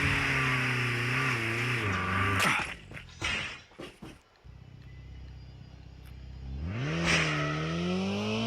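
A BMW car in Call of Duty gameplay revs its engine in two bursts, a steady rising drone that cuts out mid-clip, then picks up again and climbs, with brief rumbling clatter between.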